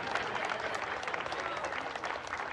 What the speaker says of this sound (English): Everyone, give this man a big round of applause for helping out.